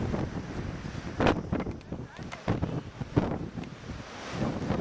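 Wind gusting during a February snowstorm, a broad blustery rush that swells and fades in uneven surges at moderate loudness, with no talking.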